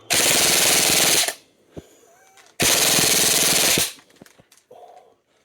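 An E&C 416A5 Geissele CTR full-metal airsoft rifle fires two long full-auto bursts of just over 20 rounds a second, each a dense buzzing rattle lasting over a second, with small mechanical clicks in the pauses.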